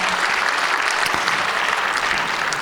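A crowd claps enthusiastically, a dense, sustained wash of applause at close range that holds steady from start to finish, at a church teachers' retreat.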